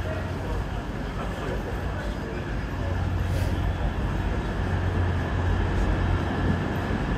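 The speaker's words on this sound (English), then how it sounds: "So here are some of the trains." Steady low rumble of London Underground trains in the station at King's Cross, with a continuous hum and mechanical drone throughout and some faint background voices.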